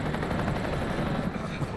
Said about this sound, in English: Bro, that helicopter's not gonna land here.